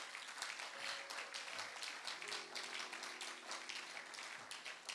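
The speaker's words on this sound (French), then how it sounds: "Est-ce qu'on peut acclamer pour le Seigneur?" A church congregation applauds for the Lord, a dense, steady wash of clapping that holds at an even level throughout, with no talk over it.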